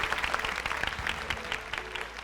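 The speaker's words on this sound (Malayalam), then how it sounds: "നല്ലൊരു കൈയടി." Studio audience applause on a Malayalam television game show, a dense steady clatter of many hands clapping close and loud for the full stretch, with no voices over it.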